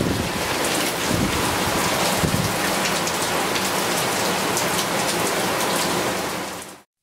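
Heavy rain pours down in a continuous, dense hiss of drops striking surfaces, loud and close, with a faint rumble beneath, holding steady before cutting off at the end.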